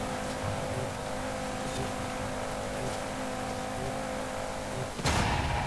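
A Cupra Formentor VZ5 races in Forza Horizon 5 in A Class, its engine holding a steady drone with a tonal whine before a sudden loud burst near the end.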